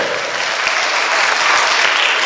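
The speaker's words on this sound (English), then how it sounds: "That was really a quiet applause" Magic show audience applauding, a broad wash of clapping held at an even level for the whole stretch, with no talk over it.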